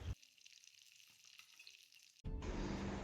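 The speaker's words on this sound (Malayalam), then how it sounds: "ആ പാനിലേക്ക് തന്നെ കുറച്ച് എണ്ണ ഒഴിച്ച് 2 സൈഡ് നമ്മളൊന്ന് മൂപ്പിച്ചെടുക്കുകയാണ്" Snapper wrapped in banana leaf frying in a little oil in a pan, a soft low sizzle that bursts into a louder, fuller crackle near the end.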